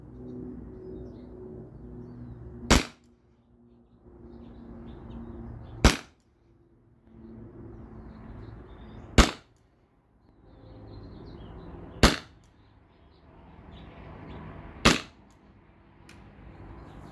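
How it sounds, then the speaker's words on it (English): A less-lethal CO2 launcher fires rubber rounds at a target outdoors, five sharp cracking shots spaced about three seconds apart, each followed by a soft hiss of released gas over a quiet background. "I shot 5 rounds"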